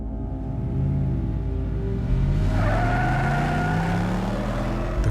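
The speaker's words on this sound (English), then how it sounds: "The car surged forward" A car accelerating hard as a sound effect in a dark horror audio story: a loud, continuous engine roar that climbs in pitch and surges from about two seconds on, with a faint tire-squeal edge and no voices.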